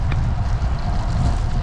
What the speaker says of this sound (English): the wind is blowing from the right on the screen